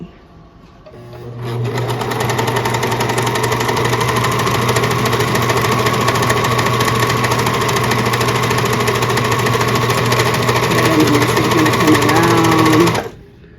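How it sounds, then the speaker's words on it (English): A serger overlock machine stitching along a fabric edge, a loud, steady mechanical whirring hum that runs for about eleven seconds before stopping abruptly. "then we're going to serge this edge and look at them both"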